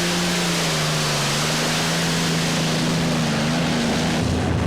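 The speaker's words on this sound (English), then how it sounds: "It's a single V12 Allerton with a Hilborn fuel injection system that's giving him the power." Pulling tractor driven by a single V12 Allerton engine with Hilborn fuel injection at a tractor pulling event in Holland, a loud, continuous, saturated engine roar with a steady low drone that shifts slightly in pitch near the end.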